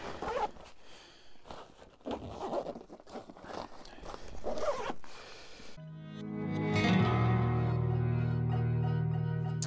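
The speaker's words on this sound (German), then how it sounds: "den Reißverschluss hochziehen" A zipper is pulled up on a Purist PLUS rolltop backpack that doubles as a bike pannier, giving a few close, scratchy rasps before music takes over.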